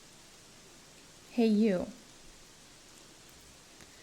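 Soft, steady rain hisses in the background of the game Gothic 3, a faint even wash that continues under a short spoken line.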